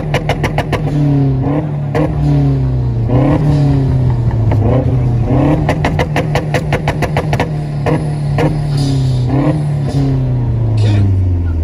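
A Mazda car engine revs hard and repeatedly at an outdoor rev battle event in Bakersfield, California, with loud rising and falling bursts, sharp crackles and a crowd murmuring nearby.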